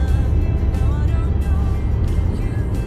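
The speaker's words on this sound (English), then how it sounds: "you hear all the cars noise" Steady road and traffic noise fills the cabin of a Mazda driving through suburban Adelaide streets, a loud continuous rumble with passing cars whooshing by and faint talk underneath.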